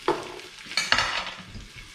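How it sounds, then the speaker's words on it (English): Roughly cut garlic halves sizzle in a frying pan while being stirred, a close crackling hiss punctuated by a few sharp scraping clinks of utensil against pan. "you can hear everything sizzling"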